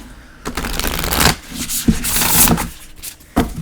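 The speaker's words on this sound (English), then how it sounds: "as I'm shuffling" An oracle card deck being shuffled in a steady riffling rush, several bursts of crisp papery flutter close to the mic, with no talking.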